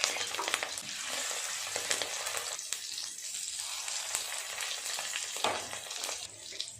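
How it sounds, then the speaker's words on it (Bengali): Small fish roe fritters frying in oil in a hot wok, a close, steady crackling sizzle with dense spattering pops throughout. "অল্প অল্প করে ডিম নিয়ে ছোট ছোট করে বড়া করে নেব।"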